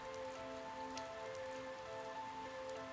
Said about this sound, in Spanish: La lluvia seguía componiendo su melodía